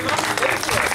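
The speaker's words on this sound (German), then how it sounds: "Klatsch mal schön." Audience applause breaks out, a brief dense burst of clapping lasting about a second, with voices mixed in.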